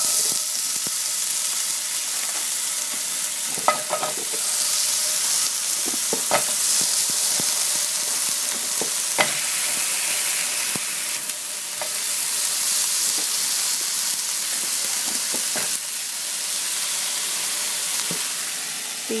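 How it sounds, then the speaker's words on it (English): Waggerty's Farm sausages frying in a pan, a loud, steady sizzle and spitting fat throughout, with occasional clicks and scrapes as they are moved around. "So I'm just about to make some sausages."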